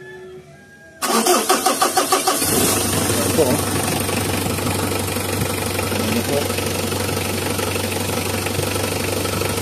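An L300 van engine cranks with a rapid rhythmic churn, catches, and settles into a steady idle hum; a voice speaks briefly over it.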